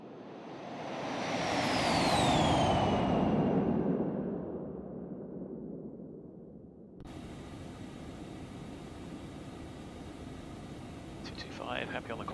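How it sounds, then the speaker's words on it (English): A Phenom 300 business jet climbs in X-Plane 11, its steady engine roar swelling and then easing off as cockpit ambience takes over, with a voice speaking over it. "Airplane's climbing nicely."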